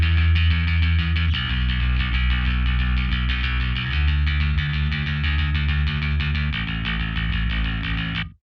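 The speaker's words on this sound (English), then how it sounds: "what you hear is just a Fender Precision bass played with a pick into one of these presets." Fender Precision bass played with a pick through a Zakk Cervini amp preset, a gritty distorted bass line with punchy picked notes and steady low sustain, ending abruptly.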